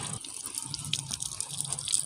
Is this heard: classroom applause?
no